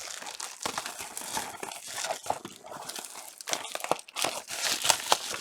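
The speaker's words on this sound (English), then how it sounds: "I'll take the plastic off." Plastic shrink wrap peeled and torn off a Warhammer 40K Leagues of Votann model kit box, close crinkling and crackling with sharp tearing bursts, continuous and fairly loud.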